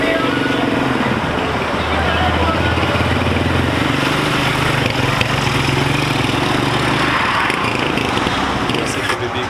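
A newly bought motorcycle engine runs steadily at a low idle-like rumble close by, with a voice talking over it throughout.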